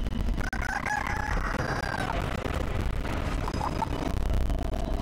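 A giant rooster crows loudly in the video game Chicken Feet, its drawn-out call rising over a dense, rumbling game backdrop with no talk.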